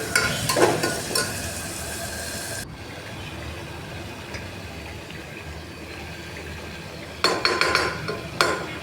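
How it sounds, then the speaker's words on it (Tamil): Ground spice paste poured into a hot frying pan and stirred for a home-cooked Sunday lunch: steady close sizzling with a spoon scraping and clinking against the pan, busiest at the start and again near the end. "இப்போ நம்ம அரைச்சி வச்ச பேஸ்ட் அதில் ஊற்றிக்கலாம்"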